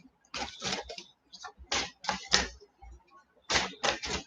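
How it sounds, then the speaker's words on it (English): A deck of cards being shuffled indoors, a series of short, crisp riffling bursts in quick uneven clusters, close and fairly loud, with no talk. "The shuffling of the cards, I know."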